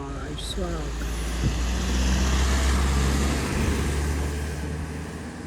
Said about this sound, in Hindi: अरे देखो भाई बिहार की गाड़ी आ गई.